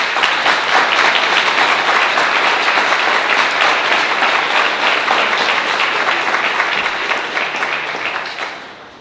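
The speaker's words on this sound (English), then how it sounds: "I want you all to give a big round of applause for Steve Norton from Burgess" Loud, dense applause fills the room at a business grand opening, a large crowd clapping steadily and close for several seconds before fading out at the end.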